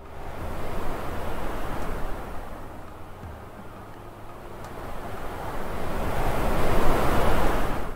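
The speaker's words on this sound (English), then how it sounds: "alter the value of this gain to make the wind sound more or less intense" A wind sound effect from an FMOD project gives a continuous broadband rush that swells, eases in the middle and grows louder again toward the end, heard alone with no voices.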